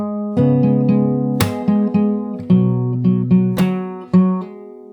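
Fingerstyle acoustic guitar plays the intro of a song, with plucked notes and hammer-ons over a ringing low string, close and clear. Bright accented attacks recur every second or so, with no talking.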